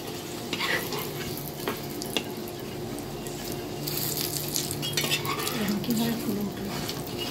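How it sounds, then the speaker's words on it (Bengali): A pumpkin paratha fries in oil on a hot pan, puffing up with a bright, crackling sizzle, punctuated by clinks and scrapes of a spatula; the sizzle grows louder midway and nobody speaks. "তেল দিয়ে দিয়ে ভেজে নেব।"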